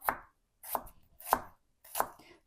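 Green onion stalks chopped with a knife on a cutting board: four crisp, evenly spaced strikes, close and clear, with no talking.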